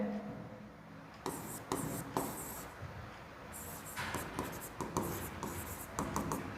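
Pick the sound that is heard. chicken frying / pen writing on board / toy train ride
pen writing on board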